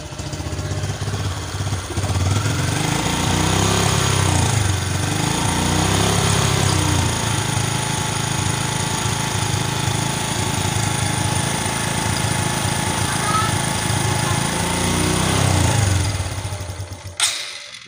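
Honda Supra X 125 motorcycle with a replaced piston, engine held at steady raised throttle once warm, a loud continuous close-up drone with slight swells, then cut off near the end.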